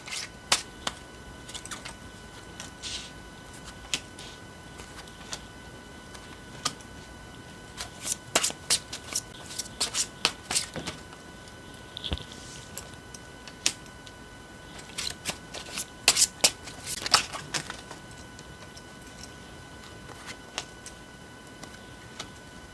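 Tarot cards are shuffled by hand, giving quiet, irregular bursts of crisp riffling and tapping clicks with short pauses between them, close up and alone.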